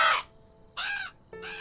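Three harsh crow caws in a cartoon, loud and close, each short and separated by brief quiet gaps, with no talking over them.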